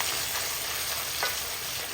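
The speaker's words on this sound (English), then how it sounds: "So essentially we're just frying the chicken" Steady, dense sizzle of chicken frying in a pan for curry, loud and close, with a brief stirring scrape partway through; no voices.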